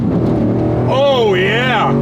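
Engine of a rebuilt, previously wrecked exotic car revving sharply through a rev-matched downshift, a loud rising-and-falling blip under steady engine drone, with a voice talking over it.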